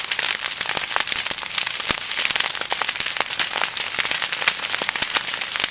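A savanna fire burns through small trees with dense, continuous crackling and sharp popping, close by and fairly loud, with no talking.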